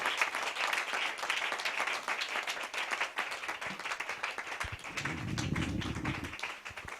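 Applause from a church congregation during a French-language sermon: dense, steady clapping that fills the whole stretch at moderate level, with a brief low rumble near the end.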